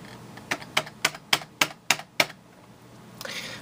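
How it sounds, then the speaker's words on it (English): Eight crisp keystrokes tap out at a steady pace on a computer keyboard, close and fairly quiet, followed by a soft rustle. "I was typing backslash."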